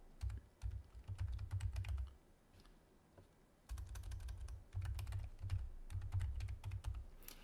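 Computer keyboard typing while working in PowerPoint, with close, crisp clusters of keystrokes in quick bursts, a brief pause near the middle, then steady rapid clicking again.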